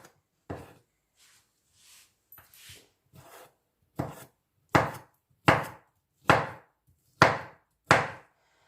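A knife cuts pumpkin into pieces for soup, first with soft scraping and a few quiet cuts, then a run of six loud, evenly spaced chops on a board, each a sharp thud with a short trailing rasp.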